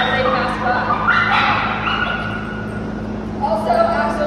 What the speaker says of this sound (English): he also loves to lunge and bark at people and yell as they pass by